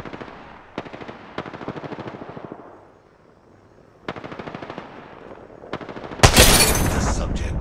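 Automatic gunfire in the video game Apex Legends comes in several loud, rapid bursts separated by short pauses, and a louder sustained volley closes the sequence.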